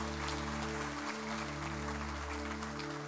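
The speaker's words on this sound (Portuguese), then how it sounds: "Aplauda o Espírito Santo de Deus." A church congregation applauds, a faint, steady wash of clapping that continues evenly over a low sustained hum, with no speech on top.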